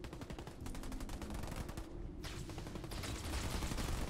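Rapid automatic gunfire from Marines in the real-time strategy game Halo Wars 2, a dense continuous rattle of repeated shots with a brief dip midway, loud and steady throughout with no talking.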